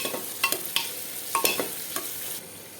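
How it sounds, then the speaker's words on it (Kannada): Chopped onion frying in oil in a pan for millet (navane) upma, with a steady sizzle under a few sharp stirring clacks and scrapes, close and moderately loud, ending abruptly. "ಕಟ್ ಮಾಡಿಟ್ಕೊಂಡಿರುವ ಈರುಳ್ಳಿಯನ್ನು ಹಾಕಿಕೊಳ್ತಾ ಇದ್ದೇನೆ. ಇದು ಕೂಡ ಫ್ರೈ ಆಗಬೇಕು."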